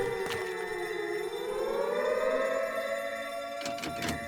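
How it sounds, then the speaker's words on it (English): Civil defense siren in the Teardown video game, a long wailing tone that slowly rises and holds steady at a loud, close level with no talk over it. "Why do I hear nuke sound effects?"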